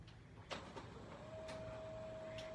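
A home printer starting up: a few soft mechanical clicks and knocks, then a steady, rising motor whir that holds at close range.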